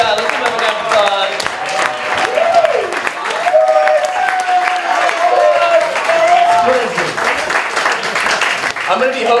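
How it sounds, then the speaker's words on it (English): A live Los Angeles show crowd applauds after a card trick, clapping running under cheers and talk for several seconds at fairly close range. "Let's give them a round of applause."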